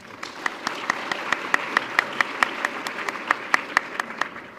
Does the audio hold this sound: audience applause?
yes